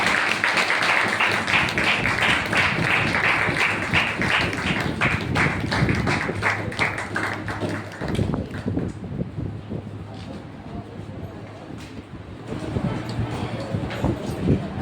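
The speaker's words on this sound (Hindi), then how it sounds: "आइए जोरदार तालियों के द्वारा हम उनका स्वागत करेंगे" A church congregation claps loudly to welcome a speaker at a Hindi Christian gathering, with dense rhythmic clapping that thins and fades partway through and gives way to a softer hall murmur.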